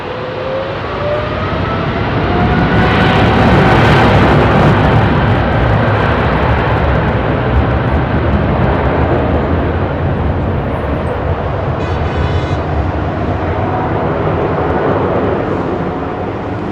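British Airways Boeing 777-300 departing Heathrow runway 27R bound for Dallas, a loud sustained jet roar that swells and holds steady with a broad rumbling rush, no voices.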